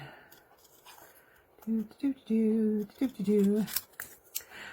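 Scissors snip in a quick series of crisp, close cuts with short pauses, each closing with a bright metallic shear.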